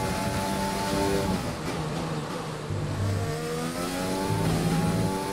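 An F1 racing car engine in the F1 2020 video game at the Abu Dhabi circuit screams at full throttle, a steady, loud, high-revving whine whose pitch shifts as it runs through the gears.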